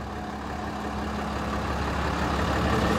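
A 2012 RAM 5500HD service-body crane truck with a 6.7 liter Cummins turbo diesel idles steadily close by, a deep even rumble with a faint low hum running through it.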